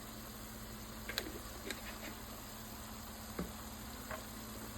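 Ground beef browning in a pan, a faint steady sizzle under constant background hiss, broken by a few light knocks and clinks.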